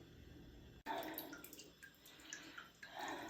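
Rinse water from washed clothes splashes and trickles close by in an uneven, continuous rinse with scattered drips, starting abruptly after a brief quiet moment.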